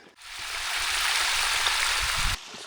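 A hose pours water into a livestock trough during daily chores, producing a steady, close splashing hiss that holds evenly for a couple of seconds and then cuts off.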